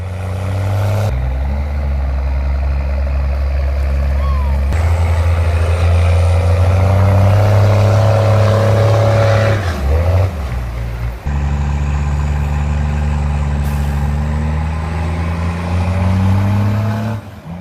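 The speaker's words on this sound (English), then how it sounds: "the M939 5-ton vehicles are used in off-road operations and work requiring heavy load capacity" M939 5-ton military truck pushing along muddy, flooded roads, a loud deep diesel drone that rises and falls with gear changes and strain, steady and close throughout with brief drops in pitch, no voices.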